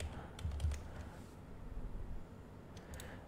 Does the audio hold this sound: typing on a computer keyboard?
yes